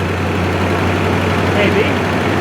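A 1976 GMC C35 truck engine idles steadily with a low, constant hum throughout, with faint background noise over it.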